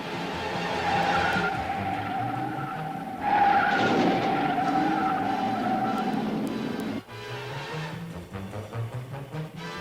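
A race car at the Indianapolis 500 skids with a sustained tire squeal, then a sharp impact as it crashes into the wall, followed by rumbling engine and crowd noise.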